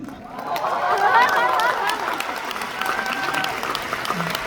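Audience clapping at a corporate business talk, a brief burst of applause that swells quickly then thins and fades over a few seconds, with a little chatter underneath.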